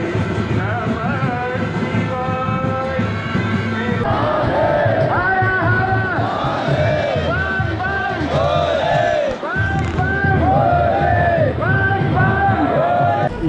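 A noisy crowd of pilgrims fills the streets of Guptkashi town on a Himalayan pilgrimage route. Continuous loud babble of many voices carries throughout, with raised calls and chant-like shouts rising over it close by.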